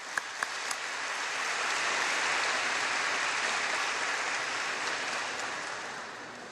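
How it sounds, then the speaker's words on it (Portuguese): An audience claps at a talk about Chico Xavier. A few separate claps come first, then dense applause builds, holds steady and eases off slightly toward the end, fairly soft and distant. "por favor, também os aplausos para ele"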